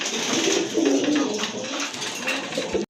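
A pair of large pigeons cooing in low, rolling throaty calls that swell and fade, close by and steady over a light background hiss, with no talk.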